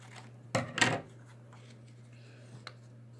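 Scissors snip through cardboard and paper around a traced toilet paper tube during a craft project: two close, crisp cutting bursts early, then a faint later snip over a steady low hum.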